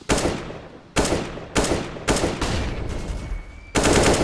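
Rapid gunfire in a CS:GO esports match between ENCE and Astralis at IEM Katowice 2019, loud and close, coming in repeated short automatic bursts that follow one another almost without a break.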